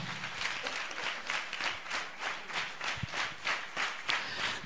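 A congregation at a Sunday church service claps rhythmically to praise God, a roughly even, steady beat of many hands filling the hall without voices.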